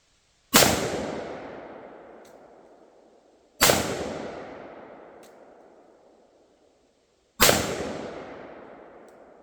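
An AK-47 rifle with wood furniture fires three single sharp, loud cracks spaced about three seconds apart, each shot followed by a long echoing decay outdoors.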